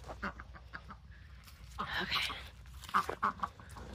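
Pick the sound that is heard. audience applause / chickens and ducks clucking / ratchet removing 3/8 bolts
chickens and ducks clucking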